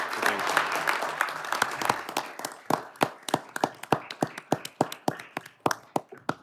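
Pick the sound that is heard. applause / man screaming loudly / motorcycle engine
applause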